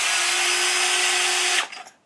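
A power drill spins a Lee trimmer cutting a brass cartridge case, a steady close whine with a faint tonal hum that cuts off abruptly, followed by a few light metallic rattles.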